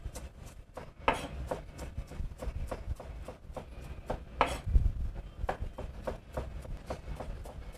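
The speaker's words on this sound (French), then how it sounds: "Un petit émincé de roquette." Arugula finely chopped with a knife on a board, a run of regular rhythmic taps with a few heavier knocks, moderately close and without talk.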